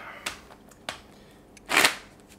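Tarot cards are handled with two quick snaps, then a short riffling burst of shuffling, close and clear in an otherwise quiet room.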